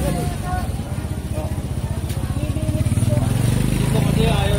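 A motorcycle idles and creeps backward out of a narrow Tondo, Manila street, its engine chugging in a steady close pulse while a man calls out instructions over it.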